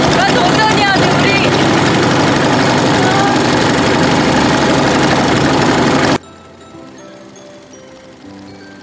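A motor boat's engine roars loud and steady on a harbor ride at Sunda Kelapa port in Jakarta, then cuts off abruptly after about six seconds, leaving quieter background sound; voices talk over it.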